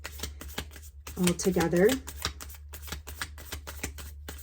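Tarot and oracle cards being shuffled by hand, a series of quick crisp riffles and taps in irregular bursts, close up, with a brief spoken phrase partway through.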